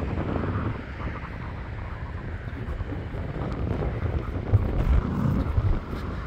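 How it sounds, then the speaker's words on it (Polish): Steady wind buffets the microphone, a low rumbling roar that continues throughout without letup, outdoors near Bergen, Norway. "Wiatr hula i dmie"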